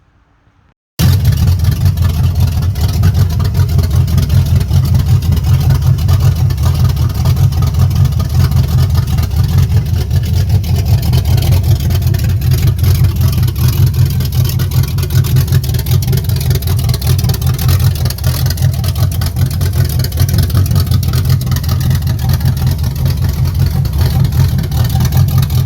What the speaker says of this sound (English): then you guys can see how this motor runs that I built myself for the very first time